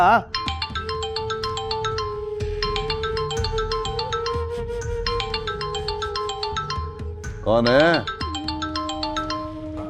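A phone ringtone plays in repeated bursts of bright chiming tones over a steady hum, loud and close, with a voice speaking briefly over it.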